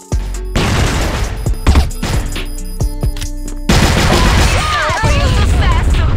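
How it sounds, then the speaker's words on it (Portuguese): A flashbang grenade bursts in a ranked online shooter match amid scattered gunfire and sharp impacts, followed by a sustained loud ringing wash with whistling tones, while a voice talks over the action. "Flashbang!"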